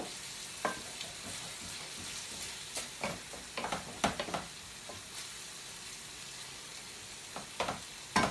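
Metal spoon stirring chilli con carne and spaghetti bolognese as they sizzle in frying pans, with steady frying hiss and scattered sharp scrapes and clinks of the spoon against the pans, close by with no talk.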